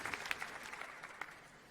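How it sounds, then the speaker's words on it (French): Applause from an audience at a 2025 award ceremony, a soft, even patter of many hands that stays fairly faint and distant for under two seconds. "Et on les applaudit."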